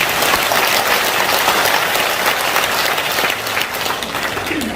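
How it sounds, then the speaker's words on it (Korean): A large audience at a family clan association's general meeting breaks into loud, sustained applause, dense clapping that holds steady throughout and eases slightly near the end. "이런 감사의 큰 박수 부탁합니다"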